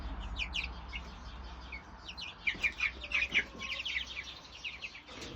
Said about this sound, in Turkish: Burada 20 günlük Brahma Light civcivleri var.